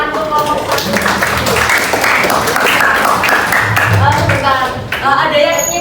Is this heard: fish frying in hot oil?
no